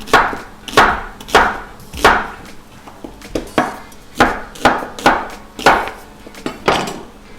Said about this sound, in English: find your largest white onion and chop it randomly